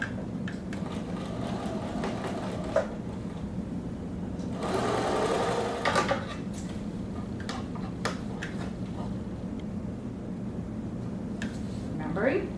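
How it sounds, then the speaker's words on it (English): A sewing machine stitches a double row of bias tape trim onto the pocket of an atikłuq parka, running in steady mechanical bursts with short pauses and clicks, while a voice talks faintly underneath. "Remembering to start sewing it on the inside part of the pocket, not the part that's closer to the outside."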